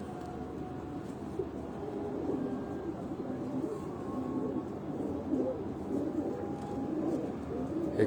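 Pigeons of the Ustad Mian Nazir breed coo softly in low, murmuring bursts over a steady background rumble, with occasional voices nearby.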